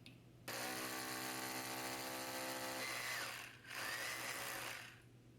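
A rotary hammer bores a pilot hole with a 5/32 bit for floating shelf installation, running loud and steady for about three seconds, then pausing briefly before whirring again and winding down, heard alone.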